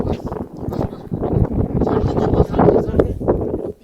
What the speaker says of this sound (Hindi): ये जो आप ऑडियो सुन रहे हैं, जो तेज हवाएं चल रही हैं वो बर्फीली हवाएं